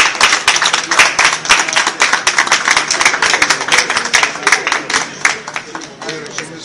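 A group claps together at a first-anniversary birthday celebration for an academy, with dense, rhythmic applause close by that continues steadily and fades slightly at the end, with voices mixed in.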